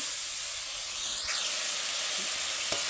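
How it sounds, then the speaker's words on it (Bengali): Spice masala for rohu fish curry frying in a pan, giving a continuous soft sizzle and hiss with a faint scrape or two, no voices. "দিয়ে মশলাটা ভালো করে কষিয়ে নেব"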